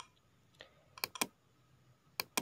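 Someone types on a computer keyboard while entering LaTeX equations, producing several sharp, close key clicks in small irregular clusters with quiet gaps between them; no speech is heard.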